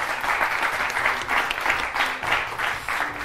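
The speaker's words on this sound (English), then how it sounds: "Let's just have a big round of applause for Mike," An audience at an evening talk on color grading and editing gives a big round of applause for the presenters, a thick continuous clatter of many hands, loud and near, lasting a few seconds with no voices.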